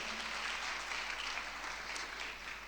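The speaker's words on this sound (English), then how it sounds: "So if I could ask you to give them a round of applause for actually creating something new" A crowd applauds filmmakers at a Beirut conference talk, a steady dense wash of clapping that holds at an even level throughout with no voices over it.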